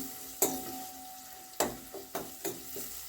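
Dried red chillies and spices such as turmeric and asafoetida sauté in a pan for hotel-style tiffin sambar. A low sizzle runs underneath several sharp, spaced clanks of a spoon against the pan. No one speaks.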